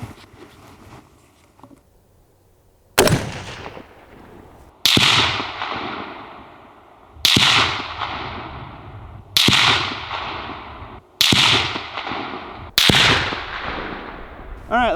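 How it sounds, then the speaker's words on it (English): Six sharp .308 rifle shots firing 150-grain rounds at an outdoor range, loud and spaced about two seconds apart, each with a long fading echo, after a quiet start. "308's expensive, so we're going to be shooting 5 rounds today"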